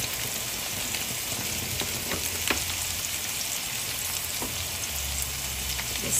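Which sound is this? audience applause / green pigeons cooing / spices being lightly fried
spices being lightly fried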